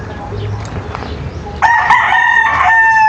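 A rooster crows loudly and close by among a flock of chickens kept on a friend's large lot, starting partway through after a stretch of low ambient noise and quiet clucking.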